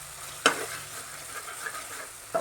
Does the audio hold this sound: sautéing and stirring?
yes